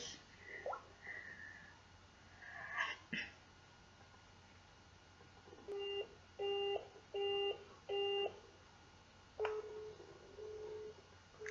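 Telephone busy signal: four evenly spaced, steady dual-tone pulses heard clearly down the line, preceded by faint handling noise and followed by a brief tone.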